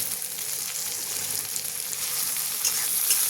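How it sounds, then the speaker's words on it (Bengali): Sliced onions and chopped tomato fry in a pan, giving a steady, close sizzle with faint crackling that holds evenly throughout, with no voices. "দিয়ে একটু ভেজে নেব যতক্ষণ টমেটো গলছে"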